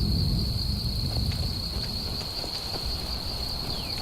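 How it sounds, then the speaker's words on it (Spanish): Steady rain in Skyrim Special Edition hissing over a low rumble, with a constant high insect-like whine running throughout. "Nos agarró la lluvia aquí."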